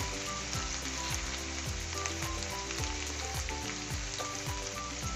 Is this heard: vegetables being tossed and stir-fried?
yes